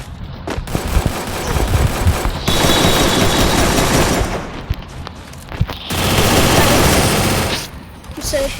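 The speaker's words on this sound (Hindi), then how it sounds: "गाइस अब AK-47 मारेंगे।" Loud bursts of automatic AK-47 rifle fire in the Free Fire battle royale game, with several sustained volleys separated by short pauses, close and dense throughout.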